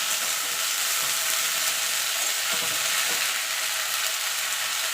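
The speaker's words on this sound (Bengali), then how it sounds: "একটু ভাজা ভাজা করে নেবো" Drumstick flowers fry with onion and garlic in a pan, giving a steady, dense sizzle with faint scraping stirs underneath throughout, close and continuous with no voices.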